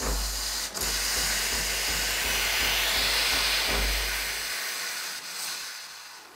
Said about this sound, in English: Let's just see what happens with the steam after 3 seconds warm up.